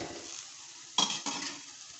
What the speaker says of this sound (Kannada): ಗೋಲ್ಡನ್ ಫ್ರೈ ಆಗೋವರೆಗೂ ನಾವು ಇವನ್ನ ಎಣ್ಣೆ ಒಳಗೆ ಕರ್ಕೋಬೇಕು.